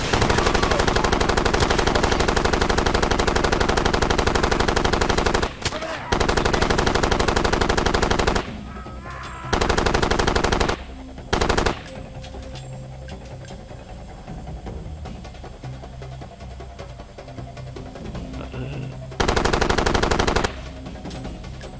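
Far Cry 2 gunfire rattles in long, loud sustained machine-gun bursts, several extended volleys separated by short pauses, close and dominant, with quieter stretches of lighter fire between them.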